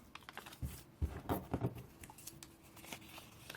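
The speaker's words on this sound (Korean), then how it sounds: "가위로 잘라주세요." Scissors cutting through folded black paper pieces for an origami dragon, a few quick close snips and paper rustles, quiet and without talk.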